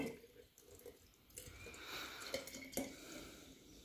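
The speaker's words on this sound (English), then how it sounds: "So I'm gonna pour that whey out." Whey from fermented kefir grains poured out at close range, a soft watery splashing and trickling with a few brief clinks of the container, steady and fairly quiet.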